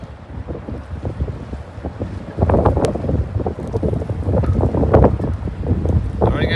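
Wind gusting through a snowy, foggy New York City park during a snowstorm, a steady rumbling buffet on the microphone that grows louder and rougher partway through, with no voices.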